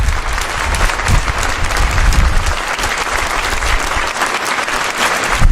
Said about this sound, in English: give a round of applause to our great service folks who are here with us today